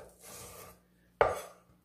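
Knife cutting green onion (daepa) on a board, one soft scraping stroke followed by a single sharper chop, close and quiet with no talk.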